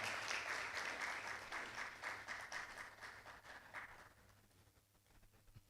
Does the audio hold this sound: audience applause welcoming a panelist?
yes